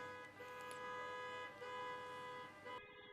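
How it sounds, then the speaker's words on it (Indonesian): A car horn blares in a sustained, steady tone on a busy Jakarta street, faint and a little distant amid the city noise. "Kedengeran nggak tuh ada suara klakson, mamang tukang parkir, tukang gorengan."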